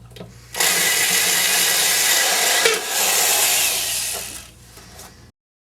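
A power drill bores out the rivets on an old Marx Electro-Shot shooting gallery toy, whining loudly and steadily for several seconds with a brief dip midway, then winding down and stopping.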